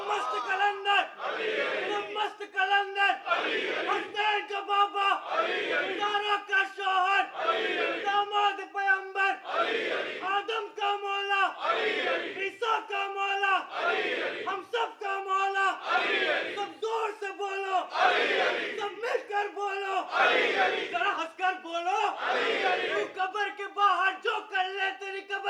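A large crowd at a Shia majlis chants religious slogans in unison, answering a boy's call in repeated rhythmic waves of massed voices that go on steadily throughout.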